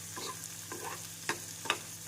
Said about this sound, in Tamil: தக்காளி சேர்த்து நன்றாக வதக்க வேண்டும்.